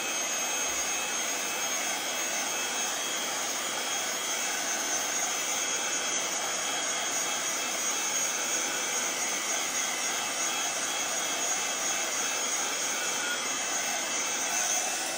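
A craft heat tool blasting hot air to dry a handmade card, a steady, loud whooshing roar close by that holds constant for the whole stretch, with no talk.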